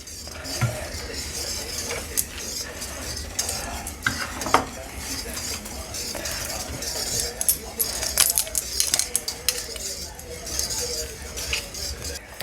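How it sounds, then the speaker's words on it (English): A whisk scrapes and clinks briskly through gravy in a pan for a roast lamb, with irregular metallic taps and stirring rustles up close, and occasional quiet speech underneath. "I'm just quickly whisking this gravy back through just to soften it up again"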